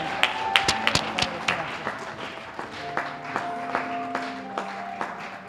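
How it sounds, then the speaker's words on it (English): Scattered, fairly sparse clapping from an audience at a neighborhood awards ceremony, individual claps audible as distinct sharp hits over a low murmur, with faint tones in the background. "Let's give a round of applause for Mr. Rod Arnold"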